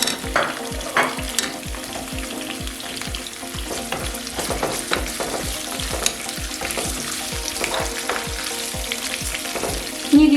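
Prawns frying in a pan with garlic and parsley for spaghetti con gamberi, a loud close sizzle broken by steady rhythmic scraping and stirring strokes throughout, no voices.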